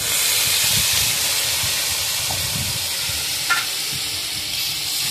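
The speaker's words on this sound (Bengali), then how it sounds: "এবার দিয়ে দেবো গরম জল।" Hot water is poured into a pan of simmering prawn and fig curry, setting off a loud, continuous sizzling hiss and steam that slowly settles over several seconds, close by with no talking.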